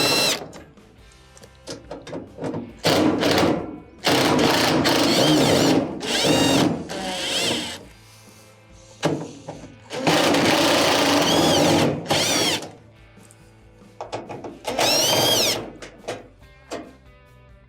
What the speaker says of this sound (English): We have a couple of screws that will need to be removed in the front here,